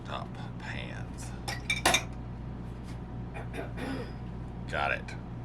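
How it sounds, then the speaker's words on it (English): Metal induction cooktop pans and utensils are handled inside an RV at an Alabama state park campsite, scattered clinks and clanks, one sharper clatter, quiet and close among soft murmured voices. "And some induction cooktop pans."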